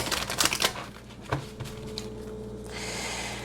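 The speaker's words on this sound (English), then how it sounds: "And I'm going to shuffle it a bit." An Oracle of the Fairies deck by Karen Kay is shuffled by hand, giving a quick flurry of soft card riffles and flicks close up, then tapering into quieter rustling.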